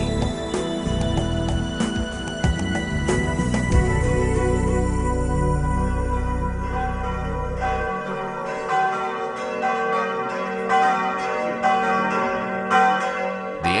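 The bells of Kreutzenberg Chapel near Bonn, Germany, ring loudly and steadily, their deep tones swelling and overlapping into a rich, resonant peal that keeps going without pause.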